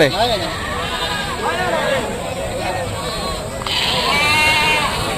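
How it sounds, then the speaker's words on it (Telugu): Several goats at a village animal market bleat repeatedly with wavering cries, some near and some farther off, with people talking in the background. "బాబు ఇవన్నీ మేకలు నీయేనా?"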